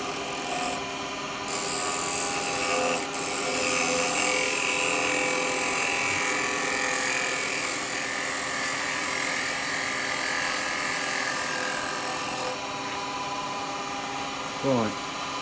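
A woodturning gouge cuts live edge alder spinning on a lathe, giving a steady, loud rasping hiss that holds unbroken for the whole stretch over the motor's hum.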